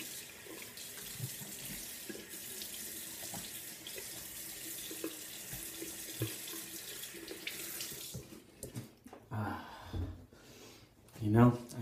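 A faucet runs steadily for about eight seconds, rinsing lime-scented craft soap off, then cuts to a few splashes and gasping breaths near the end.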